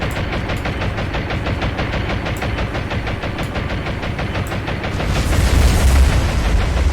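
Bombs dropped from aircraft in the naval war game War on the Sea, a droning engine with repeated rhythmic thuds before a heavier deep rumbling boom swells near the end.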